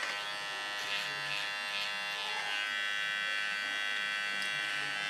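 Electric hair clipper running steadily through hair during a short pixie cut, a close, continuous high-pitched buzz with slight wavering as it moves through the hair, with no pauses.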